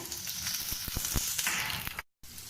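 Onions and mustard seeds sizzle and crackle steadily in hot oil, close by, with a few pops and stirring scrapes before a brief drop to silence.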